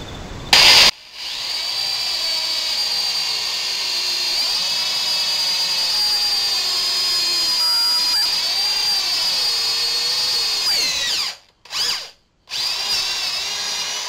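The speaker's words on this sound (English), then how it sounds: "Since I want this to drill all the way through and be in the same place on both sides, I'm going to use my drill guide." Power drill boring all the way through a workpiece with a drill guide, a steady loud high-pitched whine that runs for about ten seconds, wavers in pitch, and then cuts out briefly twice near the end.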